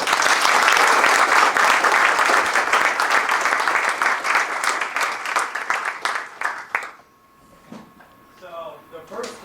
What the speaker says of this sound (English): give him a round warm of applause